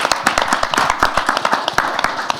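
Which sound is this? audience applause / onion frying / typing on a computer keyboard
audience applause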